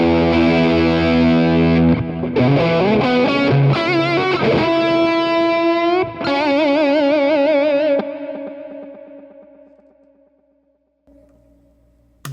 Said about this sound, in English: Let's compare that high gain sound to the Super AT mod's high gain sound.